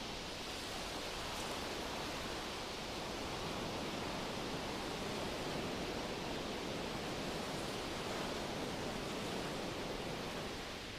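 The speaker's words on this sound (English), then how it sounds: "The waves run in and then rush out again with a whoosh." Ocean waves roll onto a driftwood-strewn beach in a continuous, even broadband rush and whoosh, steady and fairly loud throughout with no distinct individual crashes.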